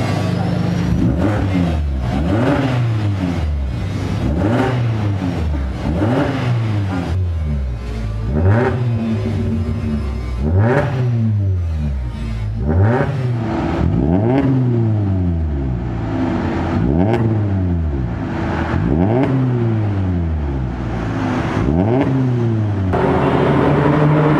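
A Suzuki Ertiga Sport with an NDK Pro Twin full-system exhaust and ORD header revs repeatedly, loud and close, each throttle blip rising and falling in a steady series of deep roaring pulls.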